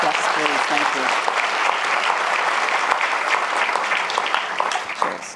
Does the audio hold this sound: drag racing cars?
no